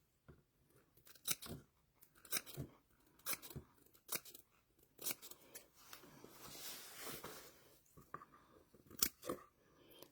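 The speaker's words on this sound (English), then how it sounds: "So I'm going probably about 1/4 inch snips" Scissors make a run of crisp, close snips through fabric, spaced every second or so, while trimming a cover for a KitchenAid stand mixer bowl; no talk.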